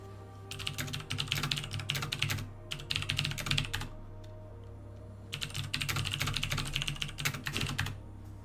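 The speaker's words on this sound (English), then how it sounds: "you're welcome for all that keyboard noise" Rapid typing on a computer keyboard fills the space in three long bursts of dense clicking keystrokes, with short pauses between them.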